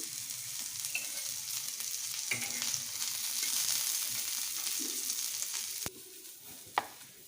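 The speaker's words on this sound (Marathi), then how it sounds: "कांदा थोडा आपल्याला लालसर होईपर्यंत भाजायचा आहे. थोडंसं तेल टाकू वरून." Finely chopped onion sizzles and fries in oil in a pan while being stirred for masala amti, a steady close crackle broken by a couple of sharp clinks near the end.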